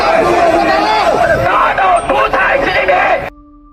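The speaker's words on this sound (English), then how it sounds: "The angry crowd was now targeting the top level, shouting for the downfall of the Communist Party and calling for Xi Jinping to step down." An angry street crowd in Xinyi, China shouts anti-government slogans against the Communist Party, a dense loud mass of voices that carries on for about three seconds, then cuts off abruptly.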